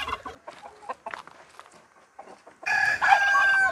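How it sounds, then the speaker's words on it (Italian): A rooster crows loudly and close at the end, a single long call after quieter stretches of faint household sounds and soft clucking. "Senti? Il gallo?"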